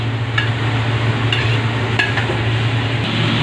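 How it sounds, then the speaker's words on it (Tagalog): A utensil stirs chop suey in a pan as quail eggs are mixed in. Steady scraping and mixing runs under a constant hum, with a few light metallic clinks against the pan. "halo na natin yung itlog ng pogo. Mix na natin."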